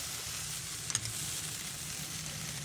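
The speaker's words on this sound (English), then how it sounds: "we're just going to put them on this side to get a nice quick sear on them." Oxtail searing in a hot pan gives off a steady, close, loud sizzle with one brief clink partway through and no talking.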